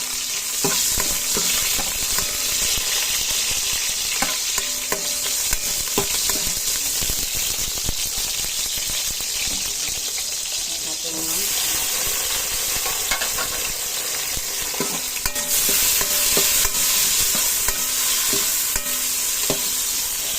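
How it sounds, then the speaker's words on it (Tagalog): Garlic and onion sauté in a kaldero for ginataang tahong, a continuous loud sizzle with scraping and clinking as a utensil stirs the pot, close and busy throughout. "Mix natin na guys yung sibuyas."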